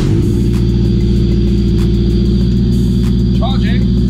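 A car fitted with an HKS muffler idles and revs in a garage, with a steady, loud, low exhaust drone and throbbing engine pulses filling the whole stretch, close to the microphone.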